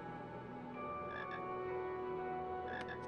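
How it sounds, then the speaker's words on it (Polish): Frog croaks in the Harry Potter and the Philosopher's Stone video game, a couple of short chirping calls rising over steady background game music, with no one speaking. "O, żaba."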